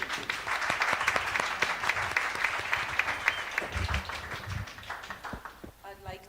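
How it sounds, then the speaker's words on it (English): Audience applause for a speaker called to the stage at a British Council creative livestream event, dense steady clapping from a crowd sustained throughout before thinning out at the end. "Please give him a round warm of applause."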